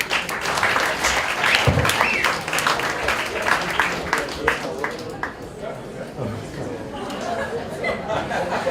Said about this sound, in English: One applause for Sarah.